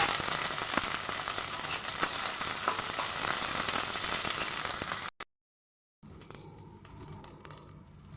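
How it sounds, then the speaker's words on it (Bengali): Cauliflower pieces with salt and turmeric fry in a pan over browned onion, giving a steady broadband sizzle with faint crackles for about five seconds before cutting to silence, then a quieter, thinner hiss resumes. "ফুলকপিটাকে লাল লাল করে ভেজে নেব"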